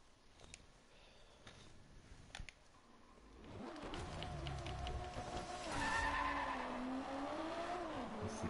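Car tires skid and squeal through a drift in the Driveclub racing game, starting faint, then a loud sustained screech with engine roar from about three and a half seconds onward, swelling and wavering to the end.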